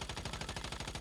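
Rapid automatic gunfire in a video game, a fast even burst of about fifteen shots in a second, dense and continuous but fairly quiet.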